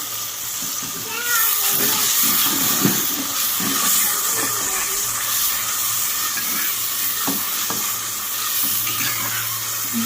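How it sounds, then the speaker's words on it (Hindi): Water is poured into hot masala with garlic paste for mutton pulao; it sizzles and hisses loudly in the pan, with stirring scrapes and occasional sharp crackles throughout. "पानी का तड़का लगाना पड़ेगा।"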